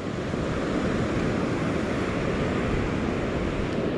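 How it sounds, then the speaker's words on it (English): Rough, heavy ocean surf pounding a beach, a dense steady roar of breaking waves with wind noise across the microphone, loud and continuous with no voices. "check out this surf today. She's angry."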